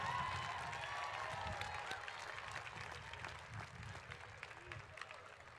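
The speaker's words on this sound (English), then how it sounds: "Graduates, please acknowledge our faculty and staff of Cal Poly, the best in the country, with a great round of applause." Graduates at the 2017 Cal Poly spring commencement ceremony give faculty and staff a round of applause: a dense, steady wash of many hands clapping in a large crowd, fading slightly over several seconds, with a faint voice early on.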